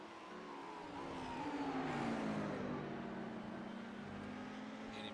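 A Lamborghini race car rounds the final corner at Circuit de Barcelona-Catalunya, its engine note rising and then falling in pitch as it accelerates past at a moderate distance, holding a sustained roar.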